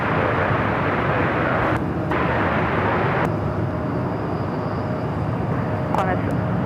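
A Starlux Airbus A350 airliner takes off at LAX, its engines a steady, loud, continuous roar that holds level throughout with no pauses.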